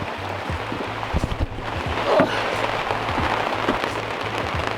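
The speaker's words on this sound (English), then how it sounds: "How are you feeling about this rain?" Rain falls on a sailboat in a steady, close hiss of drops, with scattered louder taps on the hull and deck and a regular low thumping pulse underneath.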